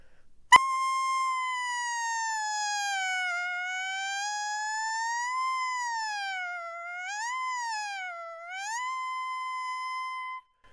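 A saxophone mimics a siren, a loud, clear held tone sliding slowly up and down in pitch in long wavering sweeps for about ten seconds, played alone.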